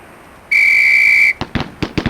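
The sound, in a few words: whistle blown as cue to shoot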